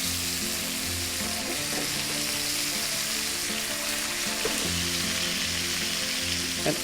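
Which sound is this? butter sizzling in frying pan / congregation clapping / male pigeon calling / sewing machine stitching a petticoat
butter sizzling in frying pan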